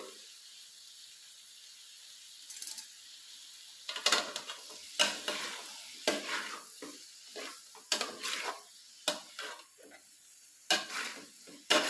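Cooked beef fries in a pan over a steady background sizzle, stirred in a series of irregular scraping strokes that come close and loud against the pan, with no talking.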